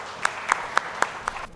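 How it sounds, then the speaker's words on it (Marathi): Five sharp, evenly spaced handclaps ring out against a quiet background, a brief rhythmic round of applause for farmers. "त्यामुळे एकदा शेतकरी राजासाठी जोरदार टाळ्या होऊन जाऊ द्या"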